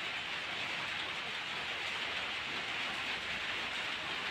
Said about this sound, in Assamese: ইমান বৰষুণ নহয় বৰষুণৰ পৰা ওলাব পৰা নাই